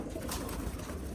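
Racing pigeons give a brief, soft burst of cooing, faint and close, lasting only a moment.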